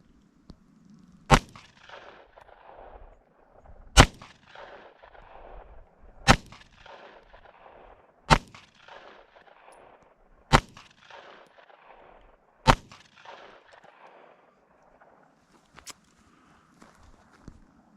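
A Glock 43 pistol fires Federal HST 124-grain +P rounds at a range, seven sharp, loud shots spaced a couple of seconds apart, with quiet shuffling between them.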